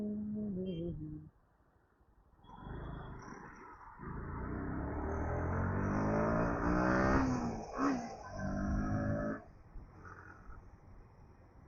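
A car engine revs and accelerates, a rising drone climbing through the gears, fairly close and steady with a brief dip partway through.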